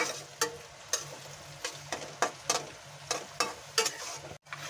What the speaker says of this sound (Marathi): कांदा आपल्याला 5 मिनिटं ब्राऊन होईपर्यंत हलवून घ्यायचा